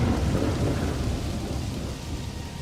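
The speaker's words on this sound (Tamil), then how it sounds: "வெளியே வேகமா காத்தடிச்சு மழை பெய்யவும் ஆரம்பிக்குது." Strong wind and rain set in during a cartoon story, a dense, steady rushing roar with deep rumbling low end that fades slightly toward the close.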